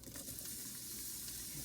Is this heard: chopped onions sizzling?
yes